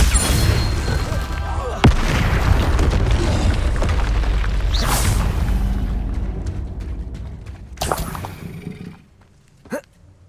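Heavy booming blasts from the Confringo fire spell in the Hogwarts Legacy video game, loud rumbling explosions over a dense game soundscape, followed by sharper pops and bursts as the noise fades out.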